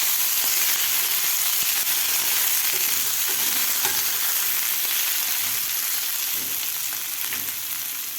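Potatoes and capsicum frying over medium gas in a pan, a constant close sizzle with soft stirring clatters now and then, no talk.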